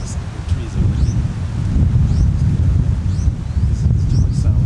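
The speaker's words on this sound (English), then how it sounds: "There's so much wind." Strong wind buffets the microphone outdoors among trees, a loud continuous low roar with gusts, while faint birdsong and brief voices sit underneath.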